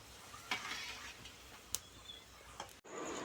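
Puris frying in hot oil give a steady, soft sizzle throughout, with a few sharp clicks and taps over it near the microphone.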